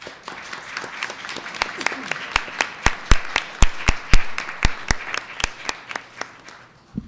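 Audience at a Brooklyn community forum clapping, with sharp, sparse individual claps forming a rhythmic patter that builds and then tapers off, close and fairly loud.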